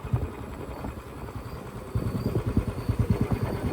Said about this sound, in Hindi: हमरा मोटरसाइकिले से जाय पड़त